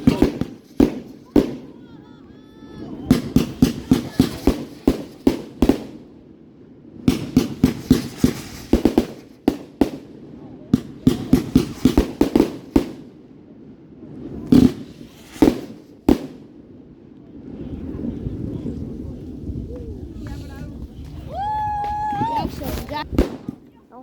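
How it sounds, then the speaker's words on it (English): Fireworks over Lobster Lake in Alexandria, Minnesota, a long string of sharp bangs and crackles in irregular clusters, some quite loud, then a quieter stretch of murmuring voices near the end, with people talking throughout. "Fireworks so cool."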